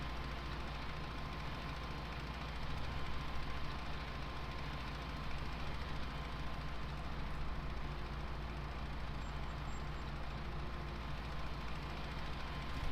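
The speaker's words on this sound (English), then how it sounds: "the tractor's not struggling at all with this really" Tractor engine in Farming Simulator 19 hauling a muck spreader, a steady low drone running evenly throughout with no talk.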